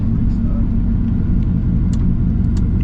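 A car engine idling with no boost, running naturally aspirated, producing a steady loud low rumble close to the listener with a little faint background noise.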